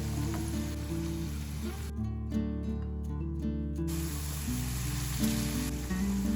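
Green gram snack dough dropping into hot oil for Kerala cherupayar snacks, with a steady crackling sizzle throughout, briefly cut by a gap of quiet, and a low hum underneath.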